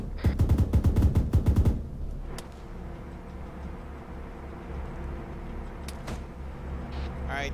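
Gunfire in the ArmA III military video game, a rapid burst of repeated shots in quick succession, followed by a quieter rumbling battlefield background with a couple of faint distant cracks.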